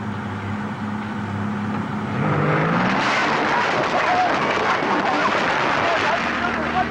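A Mercury 135 outboard motor roars up on a boat, its engine swelling loud after a couple of seconds and holding a rough, steady drone while a voice talks over it.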